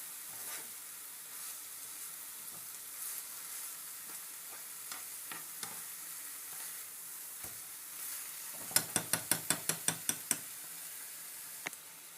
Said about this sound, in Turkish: kıymamız kavruldu. Soğanla birlikte.